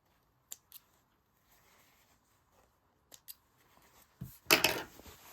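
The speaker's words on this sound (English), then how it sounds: "I'm going to go ahead and trim my threads here." Scissors snip loose sewing threads on a fabric drawstring bag, a few quiet close clicks early on, then a louder burst of cutting and rustling near the end.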